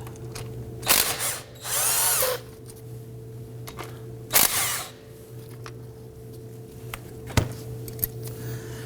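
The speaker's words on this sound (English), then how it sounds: "Now here and here are 14mm slide pin bolts. I'm going to go loosen and remove these." Power tool loosening 14mm caliper slide pin bolts on a 2018-2024 Toyota Camry, with several short loud whirring bursts and sharp clicks separated by pauses over a low steady hum.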